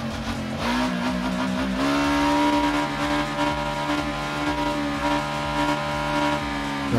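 A Ducati Diavel motorcycle engine revs hard and holds a loud, steady roar with rising and falling pitch, close up and continuous with no talking.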